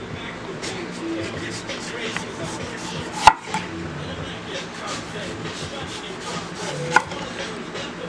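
A sharp knife shaves the skin off a medium eggplant, giving repeated soft scraping and slicing strokes close up, with one sharp knock against the board midway and another near the end; a voice talks over parts of it.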